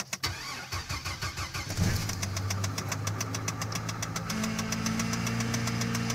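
A 2002 Chevrolet TrailBlazer LTZ with nearly 300,000 miles does a cold start in 16-degree weather, cranking in a rapid rhythmic churn before catching and settling into a steady idle with a rising whine.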